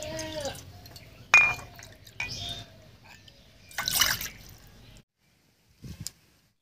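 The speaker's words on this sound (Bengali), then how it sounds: "বাটির মধ্যে দিয়ে দিচ্ছি 2 কাপ জল।" Water is poured from cups into a bowl while making tea: several short splashing and trickling bursts separated by pauses, with light clinks, close and fairly quiet.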